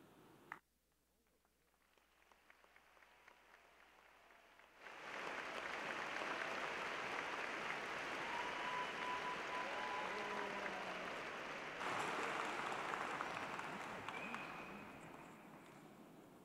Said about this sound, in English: How about another round of applause for our newest master's degree recipients?